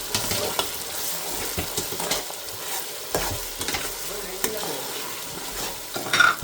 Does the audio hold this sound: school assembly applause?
no